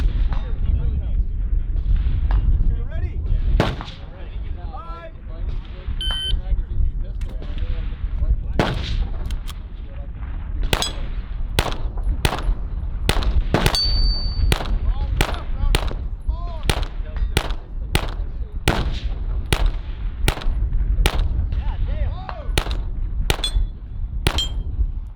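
Gunshots at a rimfire shooting match, a long run of sharp cracks with ringing metallic target clangs, irregular at first then coming in a quick steady series, loud and close over background chatter and outdoor noise.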